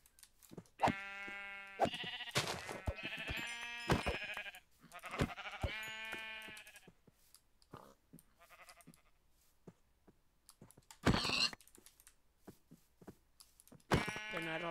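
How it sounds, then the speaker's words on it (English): Several sheep bleating in the video game Minecraft, a run of wavering baa calls that overlap close by, then quieter gaps broken by a few clicks and another burst of bleats. "Let's get all these sheep."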